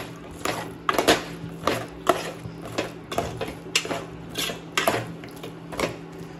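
A spoon scraping and knocking against a pot while dried fish curry with potato and egg is stirred, a series of sharp irregular clinks and scrapes over a low steady background hum.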